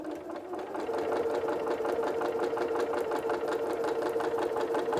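Sewing machine stitching pieces of a quilted Santa cookie rug, a steady, rapid mechanical chatter that runs continuously and close at even loudness.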